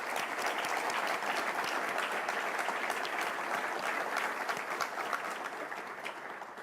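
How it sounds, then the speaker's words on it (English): A round of applause at the 2019 NASA Administrator's Agency Honor Awards ceremony: a large crowd claps in a dense, even, sustained wash that fades slightly toward the end, with no speech. "give yourself and the people who helped make today possible for you a round of applause"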